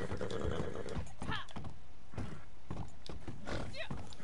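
A horse in Red Dead Redemption Online clip-clops at a steady gallop and lets out several shrill neighs and whinnies, close and fairly quiet, with a voice talking over the hoofbeats.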